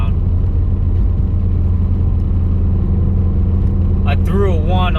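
A 2020 Subaru WRX with a cylinder 1 misfire idles with a continuous low rumbling drone and uneven pulsing, close and loud, with a voice briefly heard near the end.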